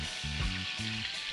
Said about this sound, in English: I'm going to saute some garlic, fat bonnet pepper, piece of scallion